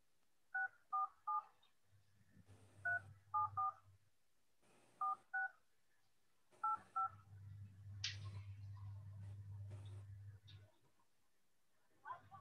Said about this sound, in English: I'm going to try and call this in